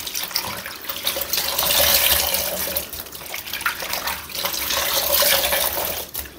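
Water gushes steadily from a tap while clothes are rinsed by hand, a continuous close splashing hiss with shifting swells as the garments move through the stream, and no voices.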